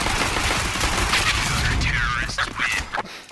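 Dense video game gunfire, bursts of automatic shots and cracks going nearly nonstop for a few seconds, loud and close, with game effects and a voice in the mix.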